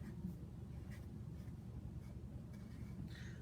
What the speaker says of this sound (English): You write it up here.